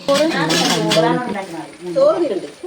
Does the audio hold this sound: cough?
no